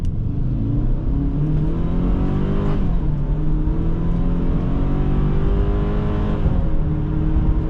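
A 2005 Subaru Outback 2.5 XT with its turbocharged 2.5-litre engine accelerating hard under boost, a loud, rising engine drone climbing through the revs with a brief dip at a gear change partway through, heard from inside the car.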